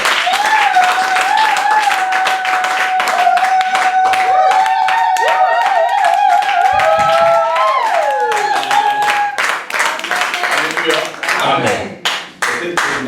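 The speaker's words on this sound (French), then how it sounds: "Est-ce que quelqu'un peut acclamer très fort pour le Seigneur?" A church congregation claps and cheers loudly for the Lord, dense sustained applause with ululating and shouting voices riding over it, thinning toward the end.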